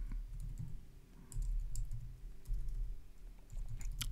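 Someone types a filter name on a computer keyboard, producing soft, quick clusters of key clicks in short runs with brief gaps, quiet and close over a low background hum.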